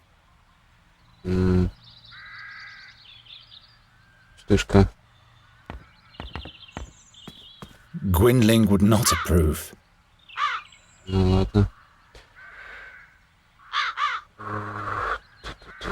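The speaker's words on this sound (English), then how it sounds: "I'll lure the crows into the fireplace and then set up the net in front of it." Crows cawing in The Dark Eye: Chains of Satinav, several harsh calls and a burst of flapping and cawing near a fireplace, heard between short stretches of spoken voice and game chimes.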